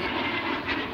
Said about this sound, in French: un avion qui vient de nous passer au-dessus de la tête. Un avion de chasse.